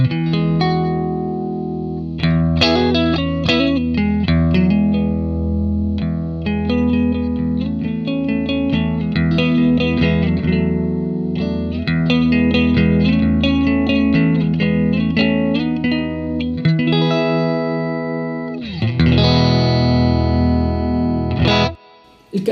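Distorted electric guitar chords and riffs through a bare speaker cone with no cabinet, miked in the middle of a room, ring out loud and raw with a thin, boxy tone for over twenty seconds without voices.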